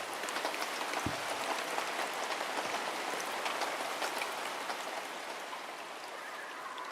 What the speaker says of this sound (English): And that's your rain sound.